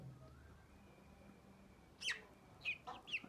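Brahma chickens during vaccination, giving a few short, fairly close clucks and squawks in quick succession after a quiet stretch of faint background noise.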